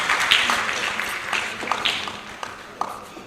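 Audience applause at a service ceremony decorating newly promoted correctional officers, steady crowd clapping of moderate loudness with a few sharper individual claps standing out.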